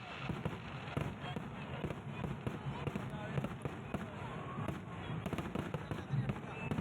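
Fireworks at the Cheramkulangara Vishuvela festival for Vishu in Kerala, heard as a steady stream of crackling pops and bursts from a short distance, mixed with crowd voices.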